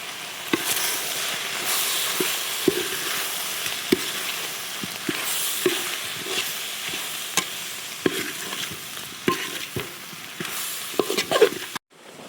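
Chicken gizzard frying with chicken masala and garam masala, sizzling steadily in a pan while a spoon stirs and scrapes in repeated irregular strokes throughout.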